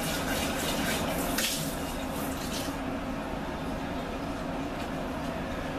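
Water with settled sand and sediment poured out of a homemade charcoal water filter, a steady continuous splashing pour that stays close and even throughout, with no talking.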